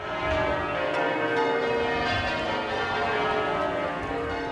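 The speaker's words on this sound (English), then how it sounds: "For half an hour, the bells at St Paul's rang out, defiant, as Londoners came to remember." Church bells of St Paul's Cathedral in London peal continuously in a dense, steady wash of overlapping tones, loud and sustained with no talk over them.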